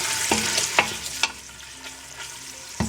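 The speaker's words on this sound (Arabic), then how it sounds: "راهو تقلى لي اللحم" Meat frying in a pan for green beans with meat, onion and tomato gives a steady hiss, with a few sharp stirring clacks of a utensil against the pan, close and alone.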